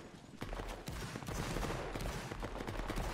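Muskets firing in a Napoleonic battle video game set at Talavera, France against the Coalition, a quick ragged burst of distant shots crackling together with battle noise behind.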